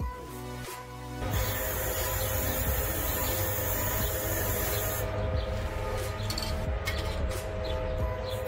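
A steady, loud hiss of Plasti Dip spray paint on a Dodge Charger spoiler runs almost continuously after a brief pause, with a faint mechanical hum beneath.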